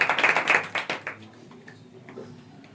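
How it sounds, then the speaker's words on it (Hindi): A church congregation claps loudly and rhythmically in quick bursts that soon fade to scattered, quieter claps. "आज के वचन को लेकर विशेष आदि जोरदार ताली बजा करके स्वागत करें।"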